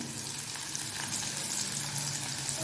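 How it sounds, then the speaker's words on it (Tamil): Small onions (shallots) sizzle and fry steadily in a pan while being prepared for coriander leaf chutney, a continuous close crackle with faint stirring and no talk. "வெங்காயம் ஓரளவு வதங்கட்டும்."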